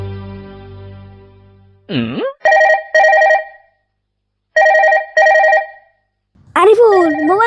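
Telephone ringtone chiming in repeated short bursts, loud and close, following a few seconds of other tonal sound and a quick sweeping noise, with a voice rising at the end.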